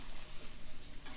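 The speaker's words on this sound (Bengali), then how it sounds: "অনেকক্ষণ ধরে আমি এটাকে আরও নাড়াচাড়া করতে থাকবো" Mutton with gourd and potatoes sizzling and being stirred in a pan, a steady soft frying hiss with faint scraping, brief and close.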